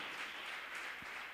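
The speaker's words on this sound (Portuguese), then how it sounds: "Você pode aplaudir o Senhor." A church congregation applauds, producing a faint, dense wash of clapping that holds steady through the short moment without a clear start or end.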